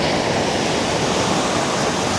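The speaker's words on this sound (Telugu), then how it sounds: "అలల ఘోష అంటారు కదా, ఇదే అలల ఘోష." Roaring sea waves on Kumta beach, a dense, loud, unbroken wash of surf filling the whole stretch, nothing else audible.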